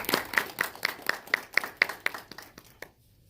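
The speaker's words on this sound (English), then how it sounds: "Everyone, applause for her," Applause from a small audience at a school spelling bee, greeting a school board member: about ten distinct claps in a fairly steady rhythm that thin out and stop, leaving near-silence at the end.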